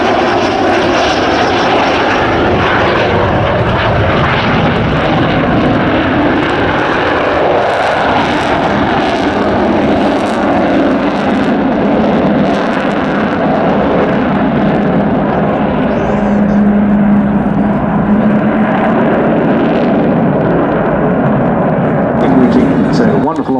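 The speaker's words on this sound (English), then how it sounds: "Last chance for a photograph of the rolling Vulcan" Avro Vulcan XH558, the delta-wing jet bomber, taxis at RAF Waddington with a loud, continuous, heavy jet roar that holds steady throughout, a commentator's voice talking over it.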